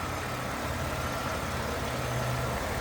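A 1991 Oldsmobile 98 Regency Elite with a 3.8-liter GM engine idles, warmed up, as a steady, smooth hum with a faint low drone and a hiss across the whole stretch.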